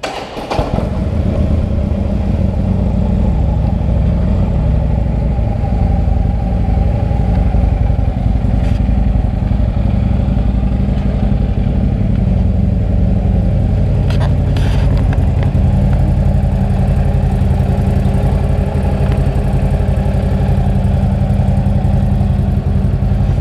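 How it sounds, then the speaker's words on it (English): A 2012 Harley-Davidson CVO Street Glide motorcycle, in mint condition, starts and then runs at a steady idle, its loud, deep engine rumble close and continuous throughout with no talking. "So I'm gonna fire this up real quick, let you hear it run"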